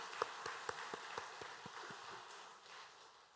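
A church congregation claps in thanks for the choir after a Sunday service, a faint, distant burst of scattered hand claps that thins out and fades over a few seconds.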